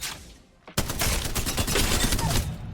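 Spitfire light machine gun in the Apex Legends video game firing a sustained rapid burst after a short quiet moment, loud, dense and continuous to the end.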